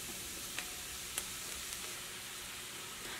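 Potatoes tipped into a hot pan of masala for masala dosa filling, giving a steady soft sizzle with a couple of faint clicks of stirring, low and continuous throughout.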